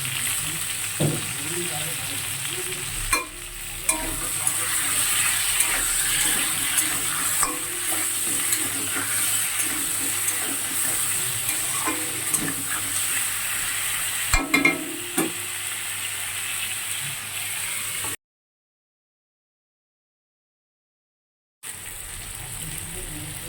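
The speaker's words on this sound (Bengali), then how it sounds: "দেখো সবজিগুলো ভাজা ভাজা হয়ে গিয়েছে" Mixed vegetables sizzle and fry in a pan, stirred with steady scraping and clinks for about eighteen seconds, then a short silence before the frying resumes.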